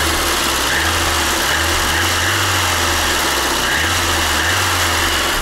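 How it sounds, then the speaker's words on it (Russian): A VAZ 2110 with an eight-valve engine idles steadily and evenly, a close, continuous low hum with a faint pulsing throb and no talking over it. "Вот эти восьмиклапанные моторы — это лучшее, что АвтоВАЗ сделал."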